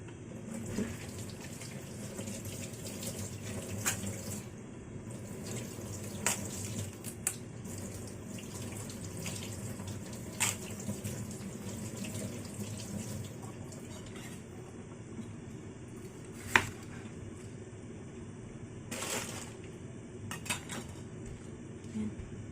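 Tap water runs steadily into a sink while Chinese green mustard leaves are rinsed, with occasional clinks and splashes from handling the greens over a continuous low rush.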